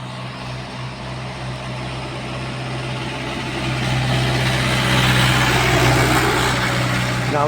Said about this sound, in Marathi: गावचा सगळ्यात मोठा मानकरी ट्रॅक्टर